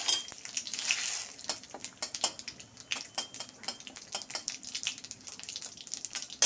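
Whole spices — dried red chilli, cinnamon, cloves, cardamom, cumin and bay leaf — frying in oil in a pan, with quiet sizzling and crackling, scattered sharp pops and light utensil clinks close by.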